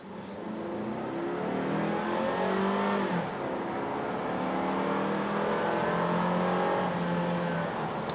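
A 2017 Toyota Camry XSE accelerating hard, its engine note climbing steadily in pitch from inside the cabin, with one brief dip at a gear change before rising again, loud and continuous throughout.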